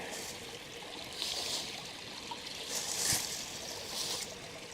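Creek water flows steadily along Naked Creek in Shenandoah National Park, a soft, even wash of moving water heard from close by, with no voices.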